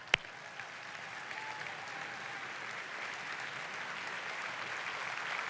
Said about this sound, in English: Dr. Hyman, Dr. Amen, would you give them a round of applause, guys, so they come on out?